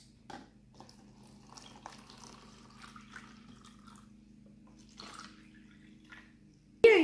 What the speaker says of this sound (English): first, pour water into alternate cups